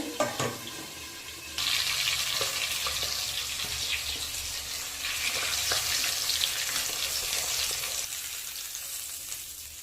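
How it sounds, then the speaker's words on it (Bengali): Oily pangas fish fries hard in hot oil with a loud, continuous sizzle and crackle that swells after a brief quieter start, with no talking. "তেলাক্ত মাছ প্রচন্ড ফুটছে।"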